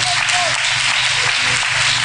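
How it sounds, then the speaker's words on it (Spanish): A church congregation applauds in unison, a steady broadband wash of clapping lasting the whole moment at even loudness, with faint crowd murmur underneath. "Denle un aplauso fuerte al Señor."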